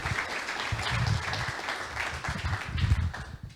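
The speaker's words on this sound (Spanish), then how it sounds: "un fuerte aplauso para él" Audience applause for a guest speaker at a business talk, a steady dense clapping crowd filling the room at moderate loudness throughout, with no voices over it.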